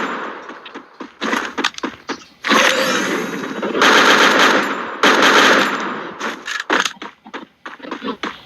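Gunfire in the battle-royale video game Free Fire, loud rapid machine-gun bursts in several sustained volleys separated by short gaps, with sharp isolated shots near the end.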